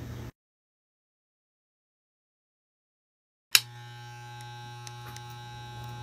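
After about three seconds of silence, electric hair clippers switch on with a sharp click and settle into a steady, close mechanical buzz that keeps going to the end.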